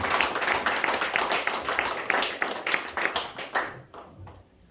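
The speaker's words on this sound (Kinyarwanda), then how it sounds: "Turashobora guha amashyi menshi Imana yacu." A church congregation claps together in dense, sustained applause that stays loud for several seconds, then thins and fades out, with no voices over it.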